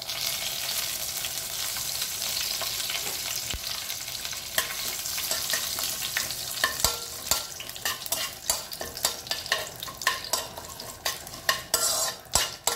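Urad dal, dried red chillies and curry leaves fry in hot oil, a steady sizzle with frequent sharp spatters and crackles growing denser toward the end, a spoon stirring through the pan, no voices.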